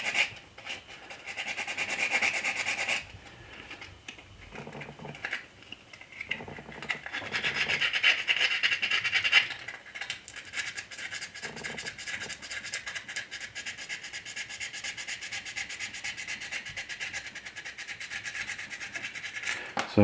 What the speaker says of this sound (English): We're gonna sand.